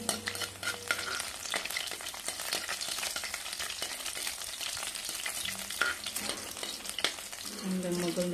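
Sliced garlic sizzles steadily in hot cooking oil, a continuous close frying hiss with occasional stirring clatter and a brief louder crackle near the end.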